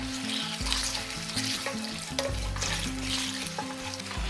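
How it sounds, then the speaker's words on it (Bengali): Whole spices, including a bay leaf and dried red chillies, frying in oil over a low gas flame, giving a steady soft sizzle and crackle with some stirring scrapes, no voices. "এই ফোড়নটাকে কিন্তু একটু গ্যাসটাকে লো ফ্লেমে রেখে সময় নিয়ে ভেজে নেবেন।"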